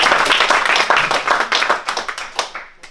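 An audience at a German business lecture claps steadily for a speaker, a dense patter of many hands that thins and fades out over about three seconds.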